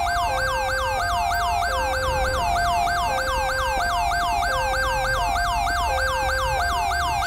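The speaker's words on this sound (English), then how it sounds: "Jesus, you need to turn your siren off" A looping emergency vehicle siren in the video game GTA with the LSPDFR police mod, a fast repeating yelp over a steady lower tone, loud and continuous over a low traffic rumble.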